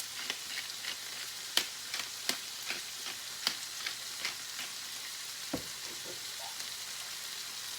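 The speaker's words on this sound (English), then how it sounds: "now that our vegetables have been sauteing for a little bit" Vegetables sauteing in a pot for chicken noodle soup, a soft steady sizzle with sharp scattered pops and ticks and a brief stirring scrape midway, close and fairly quiet, no talking.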